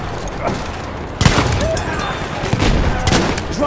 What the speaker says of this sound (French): Mitrailleuse!